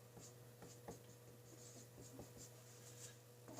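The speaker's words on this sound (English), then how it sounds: "So I'm just going to write this down." Pen or marker writing by hand on paper during a math lesson, faint light scratching strokes in short bursts over a low steady hum.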